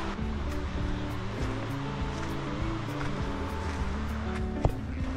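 A river flows beside a campsite at night near Lake Llanquihue, a steady broadband rush of moving water with a few faint clicks and knocks close by.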